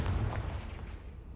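A Confringo spell blast in Hogwarts Legacy, a low, rumbling explosive burst that fades quickly, heard alone and fairly faint.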